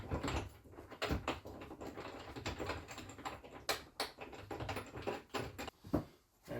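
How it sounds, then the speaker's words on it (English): Bolts are hand-threaded into a clamp for a UTV sound bar, producing irregular close clicks, taps and light metallic rattles at a quiet level, with no talk. "Screw your bolts in."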